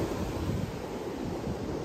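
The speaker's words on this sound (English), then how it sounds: "But there's a storm coming in. Waves are big." Big ocean waves surge and break on a cold beach as a storm moves in, a steady, loud roar of surf with wind buffeting the microphone throughout.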